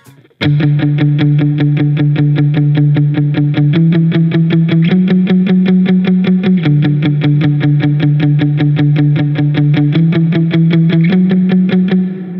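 Electric guitar run through heavy effects plays the first verse part of a song: a steady rhythmic chugging riff with distorted, chorused tone, loud and continuous, shifting chords every few seconds.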